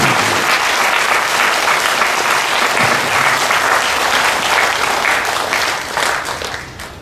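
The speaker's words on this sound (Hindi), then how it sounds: "हम तालियां बजाएंगे हाइएस्ट योग के लिए।" A large audience claps loudly and continuously, a dense steady patter that tapers off slightly in the final second.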